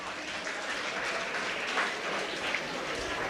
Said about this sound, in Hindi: जिन्होंने हाथ उठाया सभी ताली बजाओ इनके लिए